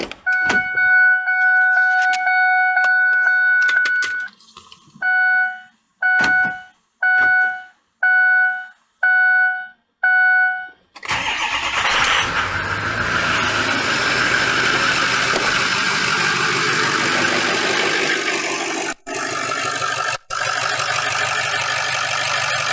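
A Ford 6.0 engine, just reassembled after an EGR valve cleaning, is cranked after several loud repeating dash chimes, then starts and settles into a steady, loud rumbling idle with a couple of brief dropouts.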